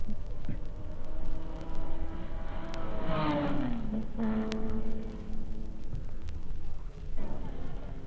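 Sports cars racing at Sebring in 1956, including a Jaguar, roar past; one engine note rises then falls as it passes close, over a constant background of further engines, with someone talking across part of it.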